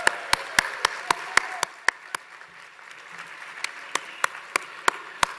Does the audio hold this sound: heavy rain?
no